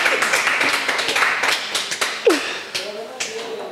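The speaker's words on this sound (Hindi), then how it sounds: "तालियां बजा दो यार" A few people clap their hands during a small pizza eating challenge, giving a quick run of light, irregular claps close by, mixed with some talking.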